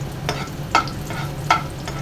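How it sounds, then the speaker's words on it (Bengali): Onions fry in oil for a mung bean dal tempering, a close, steady sizzle with a few regular scraping stirs of the spatula against the pan. "পেঁয়াজটা ভেজে নিচ্ছি"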